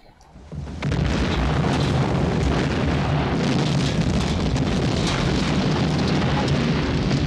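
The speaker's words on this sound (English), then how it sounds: "This better be a big explosion." A huge movie explosion from Piranha II: The Spawning (1982) bursts in after a brief lead-in, followed by a sustained roaring, crackling rumble that stays loud and dense.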